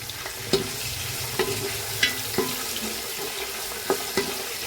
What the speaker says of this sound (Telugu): ఇవి వేగుతున్నాయి